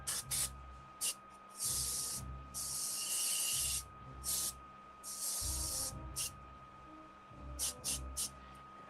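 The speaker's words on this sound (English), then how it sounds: "Something's definitely wrong with my airbrush." Short bursts of airbrush paint spray hiss on and off in an irregular rhythm while a custom Star Wars Black Series Han Solo figure is painted. The hiss is close and bright, with faint background rumble between bursts.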